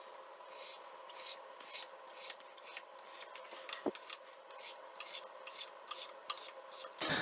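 Set tender coconut jelly is cut into pieces, giving soft, repeated scraping and slicing strokes in an irregular rhythm, close and fairly quiet, with a small knock partway through.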